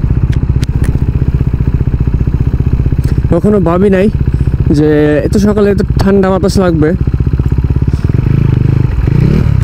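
A KTM RC 390 motorcycle on a morning ride, its engine droning loud and steady with wind rush, briefly rising and falling in pitch as it revs, while a rider talks over it.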